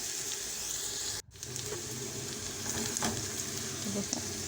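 Garlic cloves sizzle and fry in a pan, a steady close crackle broken by a brief gap, then a light stir and scattered pops as the frying carries on.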